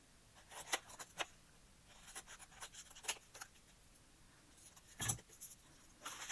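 Scissors trim paper for a handmade journal, producing faint, close, scattered snips and brushing rustles at irregular intervals over a quiet background.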